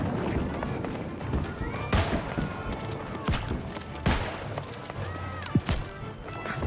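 Gunfire in a New World territory battle comes as a dense stream of sharp shots and impacts over busy combat noise, with several louder cracks standing out.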